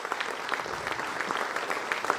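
A conference hall audience in Vadodara applauds the arriving chief guest, a brief dense patter of many clapping hands at an even level with no voices.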